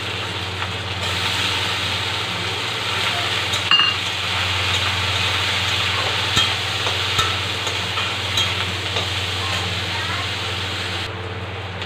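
Onions sizzle and fry steadily in a pan for jute-leaf greens, with occasional scraping stirs; a continuous close broadband hiss under a low hum, no talk.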